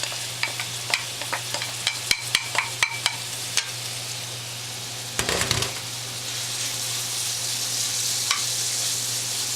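Mushrooms go into a hot pan with a series of sharp taps and clicks, then a burst of sizzle that settles into a steady, moderate frying hiss over a low background hum.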